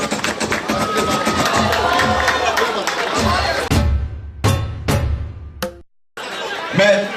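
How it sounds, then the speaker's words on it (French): A crowd at the 2019 Mandji Battle Dance final cheers and chatters loudly and continuously, then drops into brief pauses broken by short bursts of noise near the end. "on applaudit très fort."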